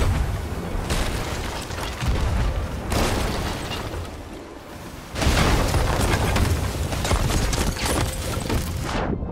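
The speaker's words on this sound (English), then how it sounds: "I got knocked back by my own fucking firebomb" Firebomb blasts in the pirate video game Sea of Thieves, with heavy booming bursts and crackling rumble that stop briefly, then return louder for several seconds, with no talk.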